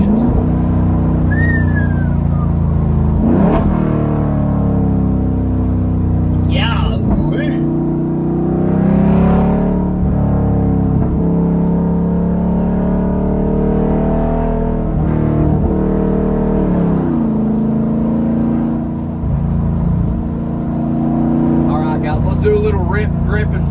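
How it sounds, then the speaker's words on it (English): A Jeep Wrangler Rubicon 392 with a straight-piped exhaust roars loudly throughout, its engine rising and falling through downshifts and revs, with a person talking over the constant engine noise. "let's get a couple downshifts."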